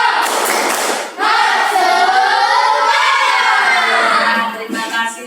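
Schoolchildren loudly chant the tepuk semangat cheer together, their shouted voices rising and falling in a rhythmic group call with a few claps and thumps mixed in.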